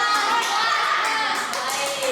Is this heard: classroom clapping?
yes